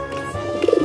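A male antique pigeon (merpati antik) gives a short burst of courtship cooing near the end, several close, throaty pulses in quick succession after a quieter background.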